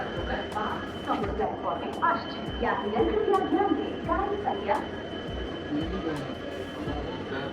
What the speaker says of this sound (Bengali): দু নম্বর প্ল্যাটফর্মেই দিয়েছে ট্রেন রূপসী Bangla one two eight eight three